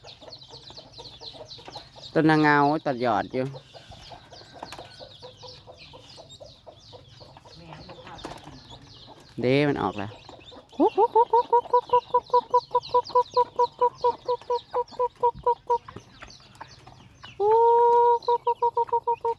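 Chickens on a farm cluck in short, rhythmic pulsed runs and a few drawn-out calls, close by, with a person talking quietly between the outbursts.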